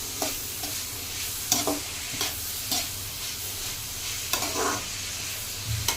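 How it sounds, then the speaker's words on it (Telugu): Onions sizzling in a pan for curry, with steady frying hiss and repeated stirring scrapes at a moderate, close level and no talking. "అందుకే ఉల్లిపాయలు ఎక్కువ వేసి వండుతున్నాను."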